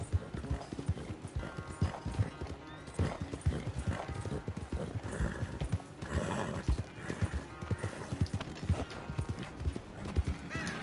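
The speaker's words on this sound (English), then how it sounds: "Where's that big mean horse?" A horse in the video game Red Dead Redemption 2, close clip-clop of hooves in a shifting rhythm with snorts and a whinny, over game ambience and brief voices.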